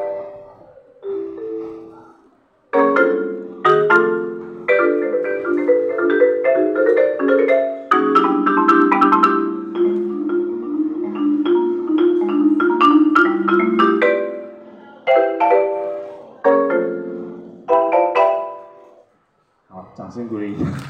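A mallet percussion instrument is struck with six mallets, giving ringing, decaying chords and clustered notes in uneven rhythmic phrases, with short pauses between bursts, played live by a duo in a bookstore.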